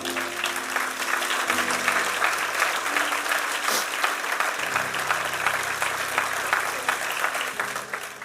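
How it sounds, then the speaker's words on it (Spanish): A church congregation claps steadily and evenly at a sermon on prophecy and the end-times church, loud continuous applause with organ or keyboard notes sustained beneath it. "Dale un aplauso al Señor."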